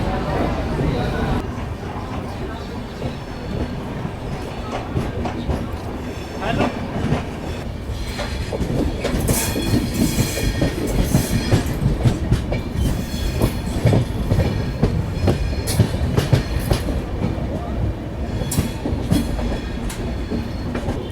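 A Yoga Express sleeper class train runs on rails between Delhi and Ahmedabad: a loud, continuous rumble with rhythmic clickety-clack of wheels over joints and occasional metallic squeals, with faint voices inside the carriage.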